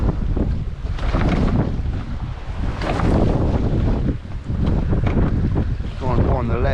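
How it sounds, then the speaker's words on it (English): Strong wind blows across an open fishing boat at sea off Hill Head, Southampton, as a constant loud buffeting roar over the microphone, with faint water sounds and a voice partly buried underneath. "We're just hoping that wind's going to drop down."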